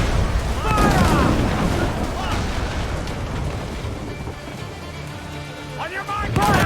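Ship cannons boom in repeated heavy blasts during a naval battle in Assassin's Creed IV: Black Flag, loud and rumbling, with shouted orders and voices over the firing.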